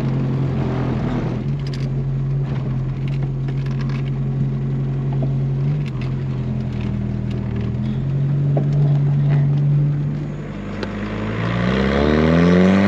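A diesel VW Rabbit pickup drives along with a loud, close engine drone whose pitch shifts as it speeds up and slows, rising again near the end, with whistling turbo tones over the running engine.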